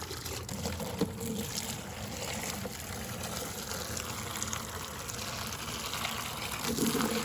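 Tap water from a bucket pours into a 75-gallon fish tank with a continuous rushing, splashing wash at steady moderate loudness, briefly swelling near the end.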